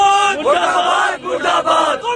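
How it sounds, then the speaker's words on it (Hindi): Student protesters of the Akhil Bharatiya Vidyarthi Parishad shout slogans in unison, a loud, close crowd of voices chanting in rhythmic bursts with brief dips between phrases. "अखिल भारतीय विद्यार्थी परिषद के छात्रों ने देश के गद्दारों को गोली मारे सालों को के नारे लगाए"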